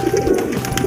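Pigeons cooing at home while bathing in a water tray, a soft low burbling coo with some splashing behind it, close and fairly loud.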